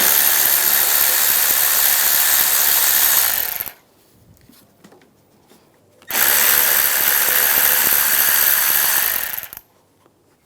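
A tool drives an 8mm socket to take side screws out of the intake manifold area on a 2009-2013 BMW 328i xDrive with the 3.0L inline-six. Two loud, steady whirring bursts of a few seconds each are separated by a quiet pause.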